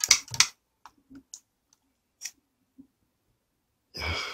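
Scissors snip through a tough anglerfish stomach in a few brief, crisp cuts with quiet gaps between them, followed by a soft breathy sound near the end.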